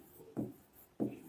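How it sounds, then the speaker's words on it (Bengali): Chalk or marker writing on a board during a maths proof: two short scratchy strokes about half a second apart, close and fairly quiet, with no talk over them. "তাহলে দেখেন আমরা লিখবো এখানে"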